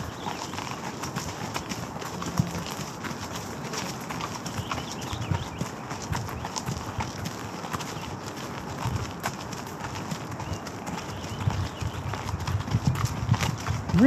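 Horse hooves clip-clop steadily on a trail at Burnaby Lake during a ride, a continuous close rhythm over outdoor background noise, with a few faint bird calls.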